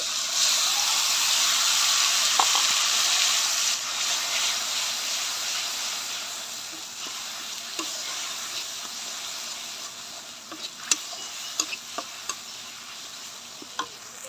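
Mustard paste and chili paste fry in a pan with a steady, bright sizzle and hiss that eases slightly over time, with a few sharp pops and spatters near the end; no one speaks.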